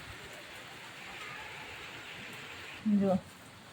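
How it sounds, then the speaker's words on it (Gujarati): Heavy rain pours down outdoors as a steady, soft wash of hiss throughout, with a brief spoken word near the end. "બીજા વરસાદ ચાલુ થઈ ગયો ફાસમ ફાસ"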